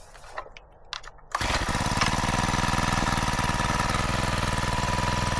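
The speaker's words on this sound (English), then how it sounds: "4-stroke engine like this. If you know Honda, you know it's a good engine." A Honda four-stroke engine on a capstan winch fires up after a few quiet handling noises and settles into a steady, close idle with an even throbbing rhythm, no talk over it.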